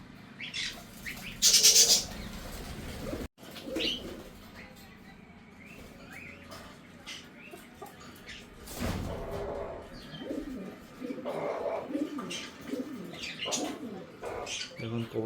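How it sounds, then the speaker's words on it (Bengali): A pigeon cooing near clay nesting pots, soft low coos heard at intervals alongside wing flaps, other bird chirps and a person talking nearby, with a loud burst early on. "এখন কবুতরটা কত সুন্দর ডাক দিচ্ছে।"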